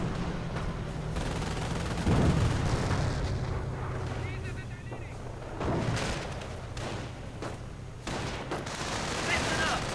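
Sniper and rifle fire crack through a WWII strategy video game battle, scattered shots and bursts under a continuous commentator's voice.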